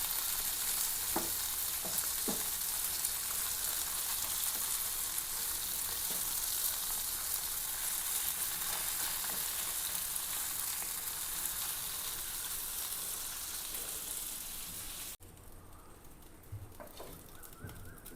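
Karimeen and nachara fish fry in a pan with a steady, loud, close hiss of sizzling oil. The sizzle stops abruptly near the end, leaving quieter background sounds with faint bird cooing.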